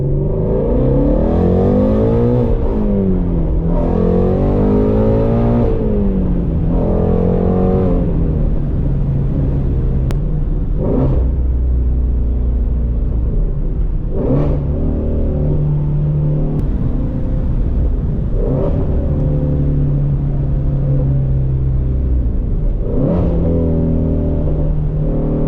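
A Ford Mustang GT350 engine pulls hard in first gear on a manual drive, loud and close, with repeated rev climbs that peak and drop at each shift point over a steady rumbling drone.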